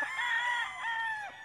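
A gamecock rooster crowing once, clear and fairly close, a short full cock-a-doodle call with no talk over it.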